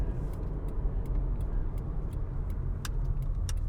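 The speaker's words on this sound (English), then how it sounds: "Some car behind me is driving like a turbo maniac." Road noise from inside a moving 2007 Honda Accord, a steady loud rumble and rush with faint clicks on top; a car tailgating aggressively from behind is not clearly picked out from the general traffic roar.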